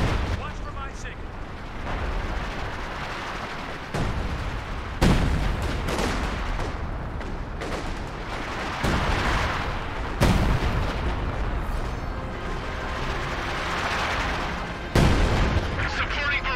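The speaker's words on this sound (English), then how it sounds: "Supporting barrage. Blanket that position with fire." Artillery barrage from Company of Heroes 2 in the Ardennes Assault campaign: heavy booming shell impacts land repeatedly over a dense rumbling battlefield, loud and sustained, with voices talking over the din.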